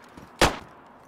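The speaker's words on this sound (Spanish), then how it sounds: "Varios tiros." A single sharp video game gunshot in DayZ cracks out over a low background hum, loud and close, with a short fading tail.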